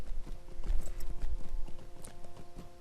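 Horse hooves clip-clop in a steady rhythmic trot in the Lord of the Rings Online video game during a summer festival, moderately loud over faint background game ambience.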